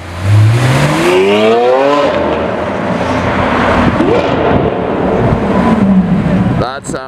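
A Lamborghini Aventador Pirelli Edition revs loudly up close, its engine pitch sweeping up and down in repeated bursts, with a sharp blip at the end and people talking and cheering over it.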